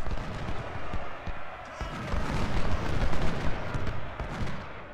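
Dense, continuous musket volleys and artillery booms from an Ultimate General: Civil War battle at Port Republic, a steady crackling roar of gunfire with heavier thumps throughout, loud and close.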